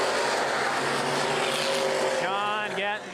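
Open wheel modified race cars roar off at the start of a 2011 feature race at Baer Field Speedway, a loud, continuous engine drone with rising revving tones near the end.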